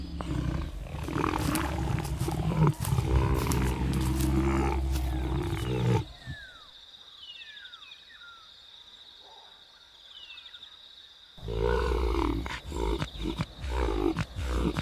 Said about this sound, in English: They fight to assert leadership within the pride while keeping watch over the aging lioness.